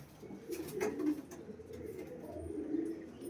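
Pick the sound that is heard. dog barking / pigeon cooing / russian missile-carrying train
pigeon cooing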